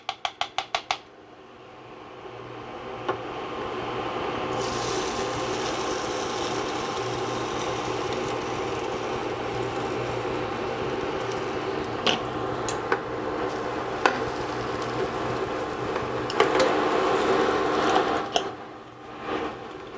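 A quick whisk of whey protein concentrate tortilla batter: a steady, close, motorized whir sustained for most of the stretch, with small clicks and taps near the end before it stops.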